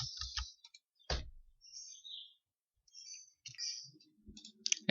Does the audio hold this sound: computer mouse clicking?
yes